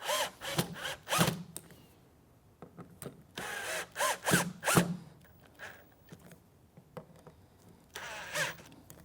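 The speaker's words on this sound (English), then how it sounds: "I'm gonna go pretty slowly with my drill" A power drill whirs in short bursts while driving screws into a Pilates reformer carriage pad, several spurts with pauses between, close and fairly loud, with a few clicks of handling.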